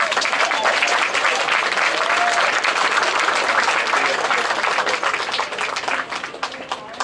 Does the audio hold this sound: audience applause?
yes